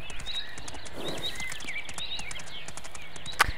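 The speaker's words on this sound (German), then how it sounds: "Jetzt reiten wir da wieder so ein bisschen entlang." Horse hooves in the video game Mein Pferd, a steady rhythmic clip-clop at a walking pace under birdsong, with one sharp click near the end.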